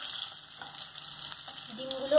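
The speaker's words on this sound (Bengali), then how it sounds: "লাল লাল করে ভেজে নেব" Eggs frying in a pan until reddish-brown for an egg rice curry: a steady, close sizzle and crackle with soft stirring scrapes, rising a little louder near the end.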